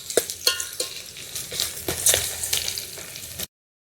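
Curry leaves frying in a pan for a village-style country chicken and fenugreek curry give a crackling sizzle, with sharp spattering pops and a few stirring scrapes before the sound cuts off abruptly.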